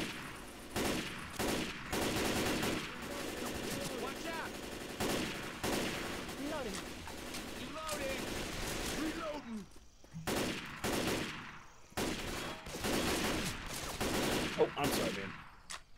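Pistol gunfire in the video game Left 4 Dead 2 rings out in quick repeated bursts throughout, with short pauses between volleys over a constant layer of game noise.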